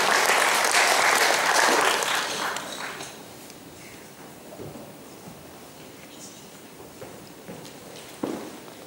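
Loud audience applause for the next speaker at a project management conference session on strategic risk, strong for about three seconds and then fading into scattered claps, footsteps and room noise.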